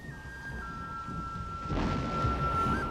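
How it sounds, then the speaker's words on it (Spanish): Thunder rumbles through a steady downpour in a dramatized storm over lagoons and docks, a low roll swelling louder about midway and lingering over continuous rain hiss, with a faint sustained tone in the background. "Y en medio de aquella tormenta,"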